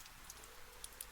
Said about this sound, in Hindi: सिर्फ बाहर हो रही हल्की बारिश की आवाज आ रही थी।